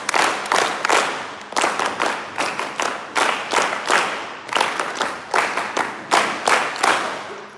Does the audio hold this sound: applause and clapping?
yes